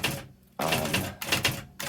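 An IBM Personal Wheelwriter 6781 electric typewriter by Lexmark running, with bursts of rapid mechanical clatter broken by short quiet pauses, loud and close.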